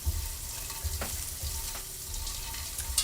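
Pieces of roast beef browning in a hot pan, giving a soft steady sizzle with a few faint stirring scrapes, fairly low and close.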